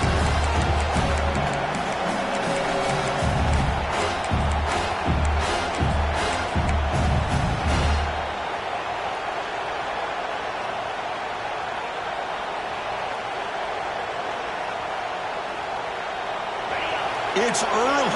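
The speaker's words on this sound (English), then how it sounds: "It's early, but this crowd is fired up. Listen to this noise here." A fired-up football stadium crowd early in an Oklahoma versus Washington game, a steady roaring wash of noise with a commentator talking over it throughout.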